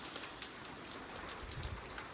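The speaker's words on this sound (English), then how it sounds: "so yeah, we got rain" Steady light rain falling on a surface, a soft continuous patter with scattered distinct drops, faint and even throughout with no voices.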